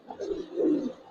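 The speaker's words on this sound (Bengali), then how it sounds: "সম্পূর্ণ জল্লার ভিতরে কবুতর তোলা" Pigeons cooing inside a loft, with Silver and Beji breeds kept there: a soft, low, rolling coo rising and falling over just over a second, fairly faint and close, with no talk.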